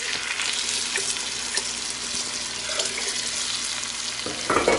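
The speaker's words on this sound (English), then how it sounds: "Okay, so now we're going to add our marinade to this." Sauerbraten marinade poured into a hot Dutch oven sizzles loudly and continuously, a dense hiss that holds steady and swells at the end, with no voices.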